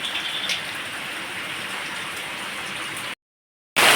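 Steady, heavy village monsoon rain pouring down with a dense, even hiss, then a brief silence before the rain resumes.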